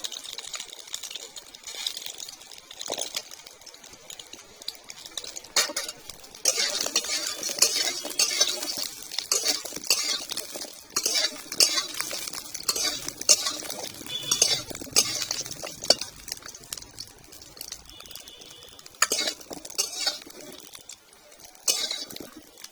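Lentil dumplings (bori) fry in a pan while a spoon stirs them, giving a steady soft sizzle broken by frequent metallic scrapes and clinks against the pan. The stirring stays close and continuous throughout.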